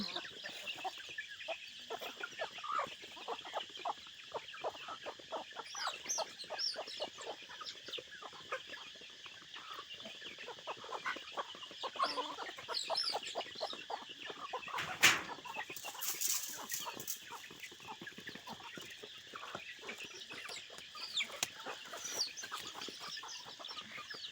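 A flock of ducks and chickens on a farm clucks and quacks continuously nearby, with many overlapping short calls at a moderate level and no clear speech.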